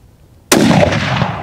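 A single loud rifle shot fired while hunting impala or blesbok cracks sharply after a quiet half second, its broad blast ringing and decaying slowly across the open ground.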